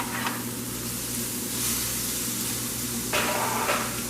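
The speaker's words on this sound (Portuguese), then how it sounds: "Agora eu vou refogar até que a cenoura comece a murchar" Grated carrot sautéing with onion in a pan gives a steady, moderate sizzle and frying hiss, with brief brighter bursts of spattering and stirring; no one speaks.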